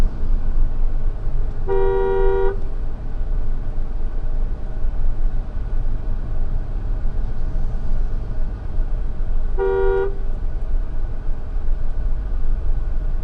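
A Mahindra Thar's horn gives two short honks several seconds apart over the constant hum of its running engine.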